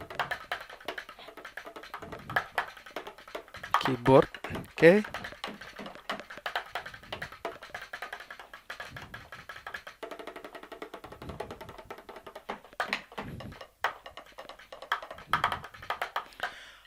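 A computer keyboard types close to an Audio-Technica PRO8HEx headset microphone, with bursts of rapid clicking keystrokes mixed with someone talking throughout.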